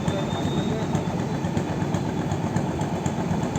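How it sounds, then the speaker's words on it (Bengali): An engine of a sand-laden boat passing near a ferry landing drones steadily at mid distance, a continuous low rumble with no breaks. "বালি বোঝাই একটা নৌকা যাচ্ছে"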